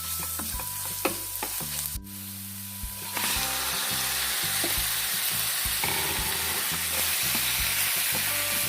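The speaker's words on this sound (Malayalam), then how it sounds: "ഇതൊന്ന് വഴറ്റി കൊടുത്തതിന് ശേഷം നമുക്കിതിലേക്ക് ചിക്കൻ ചേർത്ത് കൊടുക്കാം" Chicken frying in a pan with sautéed onions, ground spices and garam masala for a spicy green hariyali gravy, a loud continuous sizzle with repeated stirring scrapes and clatters, close by and without talk.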